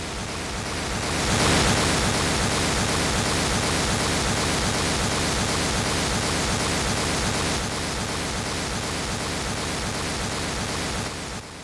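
Steady broadband hiss of true random noise test signal from a three-way loudspeaker system fills the whole stretch, even and continuous at a fairly loud level, with no voices.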